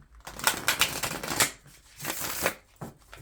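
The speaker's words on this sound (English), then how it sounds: "So I already shuffled and cut this deck, but we're going to go ahead and do more" A tarot deck shuffled by hand: bursts of crisp, riffling card flutter repeat close-up, with brief pauses between each round of shuffling.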